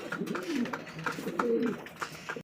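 A pair of fancy pigeons coos steadily and close by, with soft rolling calls repeating throughout and no voices over them.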